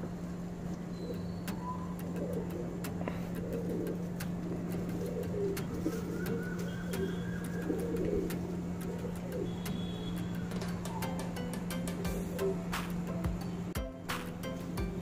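Tumbler pigeons cooing softly and intermittently at moderate distance, with a steady low mechanical hum running underneath throughout and no talking.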